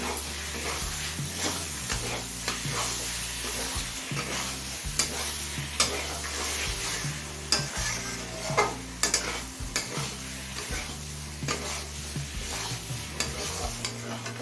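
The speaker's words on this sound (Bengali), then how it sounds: "এবার আদা রসুনের কাঁচা গন্ধ চলে যাওয়া পর্যন্ত কষিয়ে নেব" Ginger-garlic paste sautéing with spices in a pan for ghugni, a steady close sizzle broken by repeated scraping stirs, over a low background music bed with no talk.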